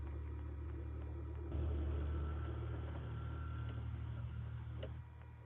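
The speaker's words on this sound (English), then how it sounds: "I'm gonna wait for this vehicle to pass by" A vehicle passes by outdoors at night, a low engine rumble swelling to a steady loud drone and then easing off as it goes.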